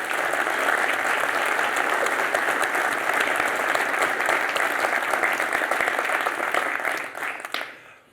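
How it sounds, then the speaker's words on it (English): Audience at a talk on building a company in Silicon Valley gives a round of applause, a dense, steady crowd of clapping hands that holds, then thins and fades out over the last second. "could we all give him a hand?"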